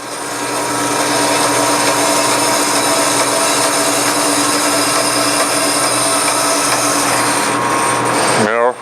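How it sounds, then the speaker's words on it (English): A knife blade, likely power-driven, cuts through filter material and its cardboard core in a loud, continuous close grinding whine with a steady hum that holds for about eight seconds before winding down abruptly at the end. "it's cutting through the filter material just fine"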